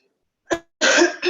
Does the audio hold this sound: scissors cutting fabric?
no